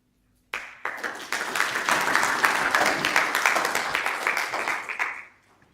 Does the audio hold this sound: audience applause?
yes